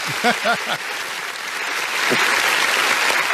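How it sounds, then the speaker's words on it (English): A canned applause sound effect played during a casual talk show, a steady clapping crowd swelling and holding to the end, with a few brief spoken words at the start. "Where's my sound effects at? I got to give him an applause."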